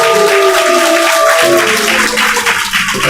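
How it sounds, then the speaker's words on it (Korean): A church congregation applauds at a baptism service, a steady wash of clapping held for about three seconds, with soft sustained musical tones fading out beneath it early on. "우리 같은 박수로 안녕하겠습니다"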